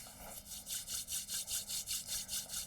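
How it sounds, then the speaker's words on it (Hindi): Hands rubbing briskly together in a quick, even back-and-forth rhythm of about ten soft, dry swishing strokes, close and fairly quiet, with no talking. "अपने हाथों पर रब करके"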